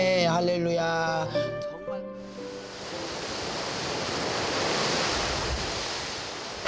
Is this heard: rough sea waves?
yes